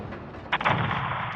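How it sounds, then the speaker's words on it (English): Small arms gunfire in Call of Duty: Modern Warfare 2, played on PS5, with a sharp burst of shots around the middle of the clip over a steady rumbling battlefield background. "Seeing small arms fire from the gas station."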